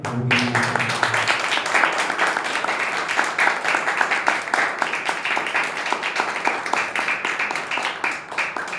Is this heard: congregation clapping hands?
yes